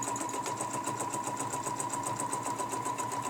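A sewing machine runs steadily, stitching a quilting pattern along a ruler around a corner; an even, rapid needle rhythm pulses at a constant close-up level throughout, with no talking.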